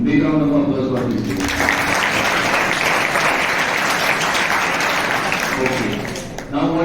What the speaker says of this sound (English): Big round of applause for this.